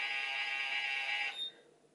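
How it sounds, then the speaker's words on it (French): A BaByliss Pro MiraCurl hair curler gives a steady, loud high electronic tone for over a second, then it cuts off and a fainter short beep follows, with no talking. "il va chauffer et il bip un certain nombre de fois"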